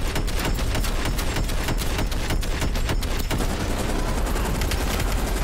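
Dense gunfire in Call of Duty: Black Ops Cold War, rapid continuous bursts of shots and explosions throughout, loud and close, with no talking.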